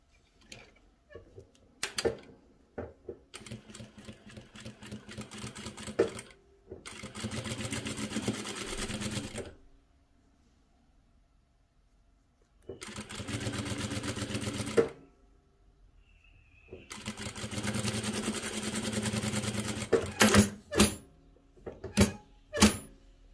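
A sewing machine stitches 4 cm fabric strips into a patchwork log cabin block, running in several steady, whirring multi-second stretches separated by pauses and a few short clicks and taps.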